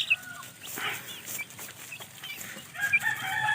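Chickens on a small farm cluck and call in the background, with a rooster crowing at moderate distance among the flock noise. Sounds are scattered and fairly faint, with no speech.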